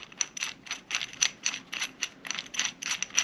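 A 9/16 tool turns the bolt on a sight pusher for a Glock 17 pistol, producing a rapid, rhythmic series of close ratcheting clicks at a steady pace.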